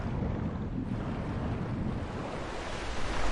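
A waterfall rushes in the Lost Valley level of Tomb Raider Anniversary, a dense, steady broadband roar, loud and continuous, with no talk.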